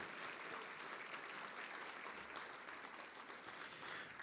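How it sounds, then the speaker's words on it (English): Steady, sustained applause from a crowd at an awards evening honoring elected officials, a dense, even wash of many hands clapping, heard from a distance and fairly faint. "how about a big round of applause for all of our elected officials here tonight?"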